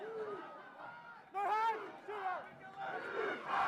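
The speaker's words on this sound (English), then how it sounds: "You hear the chants from the crowd." Rugby crowd at a Major League Rugby match between Utah and Houston raising loud, sustained chants and cheers, swelling in bursts, with no commentary over it.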